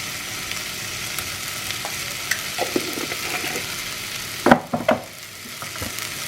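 Masala with turmeric, chilli powder and cumin powder sautéing in a pan for mushroom masala, a steady low sizzle with soft scraping stirs and a couple of sharper clanks of the spoon near the end.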